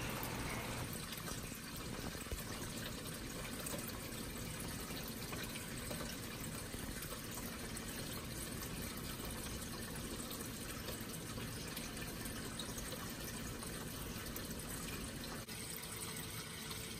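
Steady, rushing flow of water draining from filter strainers into a 36-inch aquarium sump, a continuous close gurgle and splash with no talking.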